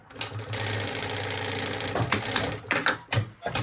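A sewing machine stitches a backpack seam, running in a steady continuous whir for about two seconds, then breaking into short stop-start bursts as the fabric is repositioned.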